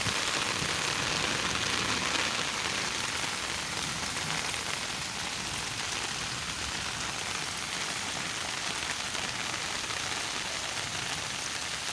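Heavy monsoon rain pounds down on a hillside village with overflowing drains, an unbroken loud hiss of drops on surfaces lasting the whole stretch, no voices.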